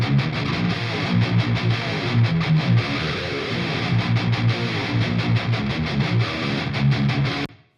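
Distorted electric guitar riffs loud and steady through a Marshall EVH cabinet miked with a Royer 121, chugging rhythmically with choppy palm-muted stops and a sudden cutoff at the end, with no talking.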